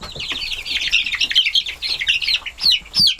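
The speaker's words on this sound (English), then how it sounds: "These are the full-grown chickens." Full-grown chickens in a pen with a runway cluck in rapid, overlapping bursts, close and fairly loud, with a couple of sharper high squawks near the end.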